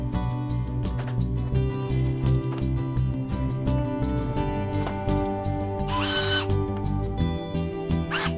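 A power drill bores a hole into a ceiling through a dust-catching cap held against it, giving a steady motor whine with sharp intermittent clicks and a brief harsh burst near the end.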